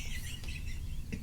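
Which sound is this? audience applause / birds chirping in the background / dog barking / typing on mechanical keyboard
birds chirping in the background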